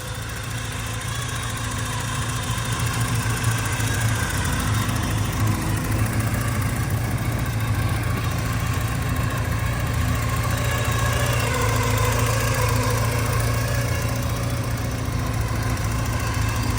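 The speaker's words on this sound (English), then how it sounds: "The motor sounds great." A 1986 Porsche 944 Turbo engine idles steadily and close by, a continuous mid-pitched hum with a faint rattling vibration that holds even for the whole stretch, with no talk over it.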